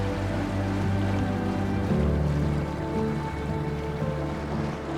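A sailing boat moving through water in Scoresby Sund, Greenland, among icebergs: a steady low rush and hum of the hull and motor under way, continuous and even, with no voices.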